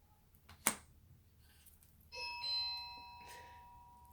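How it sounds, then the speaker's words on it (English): A sharp click, then a two-tone electronic doorbell chime ringing out clearly in a quiet room and fading slowly. "That's my doorbell."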